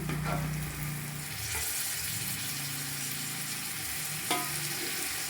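Mint leaves and softened tomato sizzle and fry steadily in a pan as part of a coconut chicken biryani, a continuous close hiss with a faint clink near the end and no talking.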